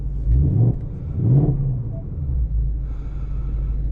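A 2025 Ford Mustang Dark Horse with a manual transmission and track exhaust revs twice in quick deep bursts, then settles into a loud, low idle rumble, heard close from inside the car.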